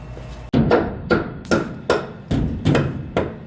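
Repeated sharp hammer blows into lumber during house framing, about eight strikes in steady rhythm, loud and close, each ringing briefly before the next.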